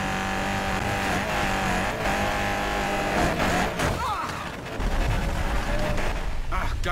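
Race cars roaring through a Need for Speed Payback race, engines droning loudly and continuously with shifting revs, a brief dip midway before the engine noise surges back at full volume.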